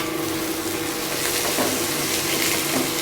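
Chopped potatoes sizzle steadily in a pan of hot ghee or oil, a continuous close, even hiss of frying with no voices over it.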